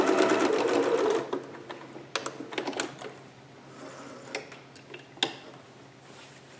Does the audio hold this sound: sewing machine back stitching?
yes